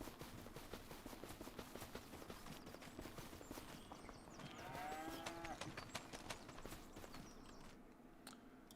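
Cattle in the farming game Farming Simulator 25 give a low drawn-out moo midway through, heard over steady clip-clop hoof steps and a dense ambient farm backdrop.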